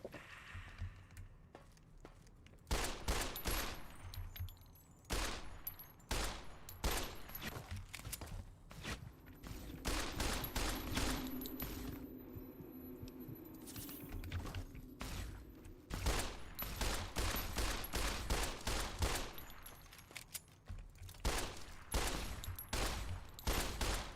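Gunfire in Fallout New Vegas at Boulder City: rapid, loud bursts of sharp shots with short pauses and clanking mechanisms between volleys.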